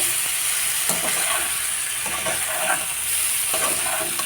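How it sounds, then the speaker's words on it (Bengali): Pointed gourd and parboiled potato pieces with grated ginger stir-fried in a pan, a steady broadband sizzle with soft scraping stirs and a few spatula knocks recurring throughout, close and alone. "এবার কিছুক্ষণ কষিয়ে নেব যেহেতু আগের থেকে পটল আলুগুলো সেদ্ধ আছে মোটামুটি কষালেই হয়ে যাবে"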